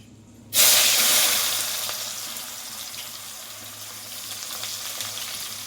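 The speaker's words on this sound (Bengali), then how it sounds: "এবার দেখো আমি এর মধ্যে পেঁয়াজ কুচিটা দিয়ে দিচ্ছি" Chopped onion dropped into hot oil on a gas stove, bursting into a loud sudden sizzle that slowly settles into a steady hissing fry.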